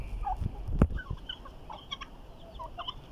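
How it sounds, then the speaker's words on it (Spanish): Turkeys and chickens gather to peck at scattered corn, a mix of gobbles, clucks and bird calls at moderate distance, with a few sharp thumps and outdoor rustling. "ahí les puse un poco de maíz y todas las mis aves empiezan a acercarse a alimentarse"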